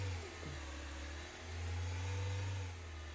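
Taxi engine in a taxi driving simulation game while the car drifts, a faint mid-pitched motor hum that rises and falls with revving, steady and low in level throughout.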